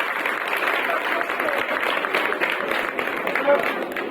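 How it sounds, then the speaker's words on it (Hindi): Audience clapping at a spiritual gathering, continuous and fairly close, with voices mixed in underneath throughout. "ताली बजाओ भाई।"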